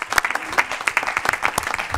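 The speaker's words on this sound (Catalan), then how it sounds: "jo faria un aplaudiment al moderador i a tots els testimonis" A crowd claps steadily for about two seconds, dense and sustained applause with no voices standing out.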